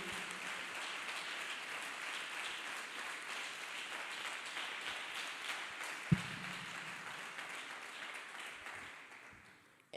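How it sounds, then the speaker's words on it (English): A church congregation claps hands together in sustained applause, a dense, fairly distant patter of clapping that fades toward the end. "Let's clap hands for our Lord Jesus Christ"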